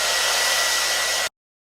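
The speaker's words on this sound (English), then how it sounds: "I'm just going to blow dry it a little bit more to make sure" A hair dryer blows steadily on a wig, a loud continuous rushing airflow that runs for over a second, then cuts off abruptly into silence.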